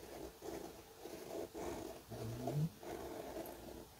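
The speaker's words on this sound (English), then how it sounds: "You might hear my dog snoring in the background." A dog snores softly in the background indoors, several rhythmic rumbling breaths about a second apart, with one slightly louder snorting breath near the middle.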